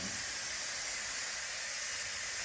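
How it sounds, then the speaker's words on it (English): Steam hissing out of a pressure cooker's release valve, a steady broadband hiss that holds constant throughout, loud and close with no talk. "So it'll take a few minutes for the steam to come out, and it will almost stop"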